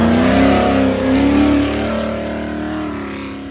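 Off-road race truck accelerating hard off the start line, a loud, close engine roar climbing in pitch and holding steady as it pulls away.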